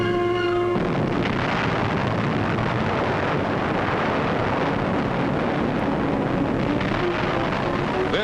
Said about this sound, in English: the same explosion is seen again.